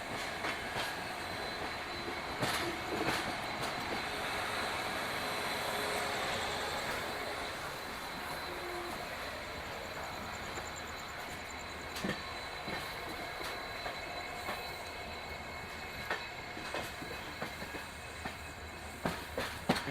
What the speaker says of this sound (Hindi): धीरे धीरे हमारी ट्रेन स्पीड पकड़ रही है।